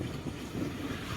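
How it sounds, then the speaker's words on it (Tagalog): Strong wind roars against a rider's microphone while crossing a bridge on a motorcycle, a dense, steady buffeting rush close to the mic with no clear talk. "Hirap, lakas ng hangin."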